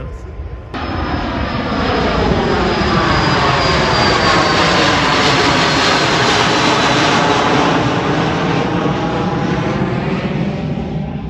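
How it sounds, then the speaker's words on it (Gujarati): An Air Canada charter airliner taking off from a runway in Canada produces a loud, sustained jet engine roar that swells in after the first second and holds strong for the rest of the passage. "એ ચાર્ટર પ્લેન રનવે ઉપર આવ્યું અને ત્યાંથી પછી એ ફ્લાય કરી ગયું ટેક ઓફ કરી દીધું એને"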